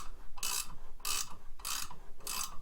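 A bolt being tightened to spread the clutch sheave on a 2010 Arctic Cat Crossfire 800 snowmobile gives four evenly spaced bursts of crisp ratchet clicking, close up and with nothing else heard.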